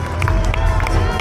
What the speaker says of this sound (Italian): Sì, facciamo un grande applauso